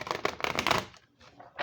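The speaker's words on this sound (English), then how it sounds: "All right. Let's see how it bridge shuffles." Bridge shuffle of an oracle card deck, a dense run of rapid crisp riffling clicks close up, then a brief pause and a few soft taps as the cards settle back together.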